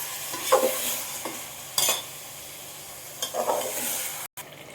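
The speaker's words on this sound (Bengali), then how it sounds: "মটনটা আমার আদা রসুনের সাথে ভালো করে 4 মিনিট ধরে ভাজা হয়ে গেছে" Mutton pieces frying with ginger-garlic paste in a pan for mutton aukni, a steady close sizzle broken by several bursts of scraping and stirring, ending in a brief cut of silence.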